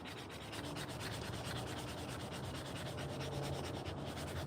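Rhythmic back-and-forth sanding strokes on a hand-carved wooden spoon, a rapid, steady scratching pulse heard close up with no talking.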